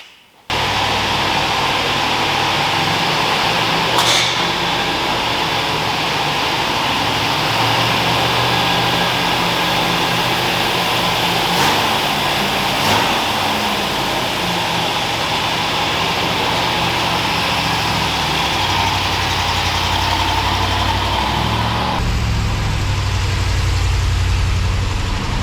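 A 1964 Corvette C2 engine catches right at the start, then holds a steady, loud fast idle near 2,000 RPM, with a constant low rumble and a few small shifts for the rest of the run.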